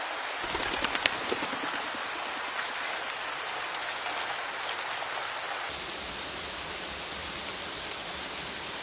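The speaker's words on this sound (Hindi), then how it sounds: "बारिश का मौसम था, जोरों से बारिश हो रही थी।" Steady heavy rain pours down in a dense, continuous hiss, with a few louder drops spattering nearby early on.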